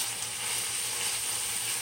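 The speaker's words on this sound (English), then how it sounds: "This sauteing process probably takes a good, maybe about 10 minutes." Vegetables sauteing in a pan for shrimp fried rice with garlic powder, giving a brief steady hissing sizzle at moderate loudness, without voices.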